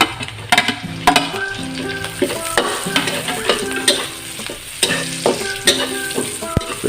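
Ginger sautéing in a hot pan for a vegetable-meat ginataan, a steady sizzle broken by repeated scraping and clinking strokes of a spatula, close and fairly loud.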